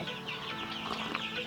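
Backyard chickens cluck softly and continuously for a brief moment, a quiet close flock murmur with no talking.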